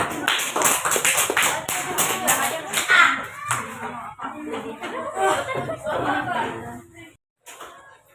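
A group claps in a quick burst at the start, mixed with chatter and light laughter, and then talking carries on.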